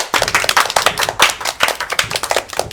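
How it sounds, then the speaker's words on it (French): An audience claps to welcome two guests, Adrien and Martin, at a weekly recap session: a brisk, dense burst of close hand clapping, loud and steady for a few seconds, with no talk over it. "on peut les applaudir."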